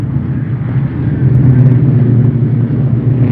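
Indy race cars from the 1970 Tony Bettenhausen 100 drone past in a dense, low engine rumble that swells midway and holds steady, heard alone with no voices.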